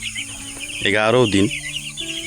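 A broiler chicken lets out a loud, drawn-out clucking call over a low background hum of other eleven-day-old broilers.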